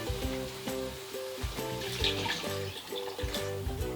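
About 400ml of stock is poured into a pan for matar paneer, a close, continuous splashing and gurgling of liquid with small knocks and clinks throughout.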